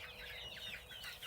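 Chickens clucking in a steady overlapping chatter, a flock of odd chicks murmuring and squawking close by without pause and with no talk over them.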